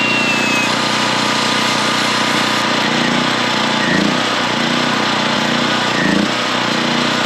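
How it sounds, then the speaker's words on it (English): An angle grinder works a spot of metal on a ranch gate before a bracket is welded, a continuous loud harsh whir with slight dips in pitch as it bears down. "then we'll grind this spot right here and weld that bracket right there also"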